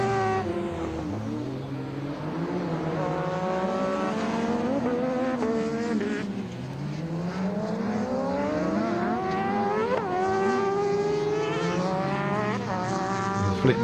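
Rallycross race cars at a club championship round at Blyton Park roar along the start straight, engines rising and falling through gear changes in overlapping loud whines, close and continuous.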